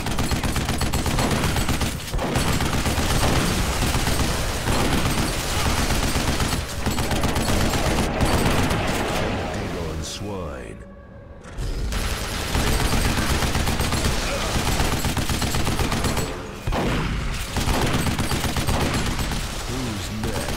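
Sustained heavy turret machine gun fire in Duke Nukem Forever, a loud relentless rattle lasting throughout with brief gaps, one near-silent break midway, and a voice talking over it in places.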